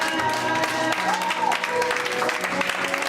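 Church congregation at a Sunday service applauding and cheering together, a dense continuous wash of clapping with some voices mixed in, steady and fairly loud throughout.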